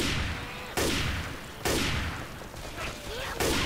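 A gun picked up in a Left 4 Dead-style video game fires in several heavy, booming bursts about a second apart, loud and close, each followed by a fading tail.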